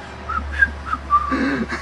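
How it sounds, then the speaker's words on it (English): Short backward-whistled notes rise and fall in a quick uneven sequence, close by, over a low steady hum. "I have this backward whistling."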